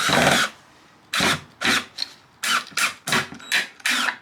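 Power drill driving a wood screw through wood for a DIY wall cat shelf, heard up close in several short bursts of whirring and grinding separated by brief pauses, with no speech.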